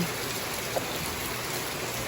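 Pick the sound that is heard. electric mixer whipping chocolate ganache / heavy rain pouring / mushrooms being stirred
heavy rain pouring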